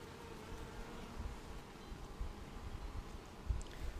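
Honey bees in an open hive packed with brood comb, a soft, continuous low buzzing hum close by, with faint rustling and no talk.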